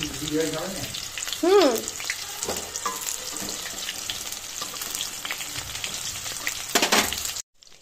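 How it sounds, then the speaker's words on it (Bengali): Chicken pakoras fry in hot oil until reddish-brown, a close, continuous sizzle with bubbling crackle and a few stirring clatters, ending abruptly. "তো এখানে আমার পকোড়াগুলো প্রায় লাল লাল করে ভাজা হয়ে গেছে।"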